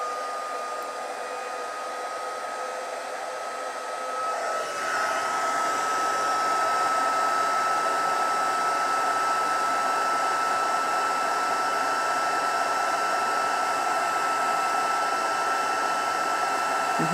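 An embossing heat tool, used on glitter card-making with stamping supplies, blows a steady loud whooshing hum that kicks up to full power after a few seconds and then runs continuously and close.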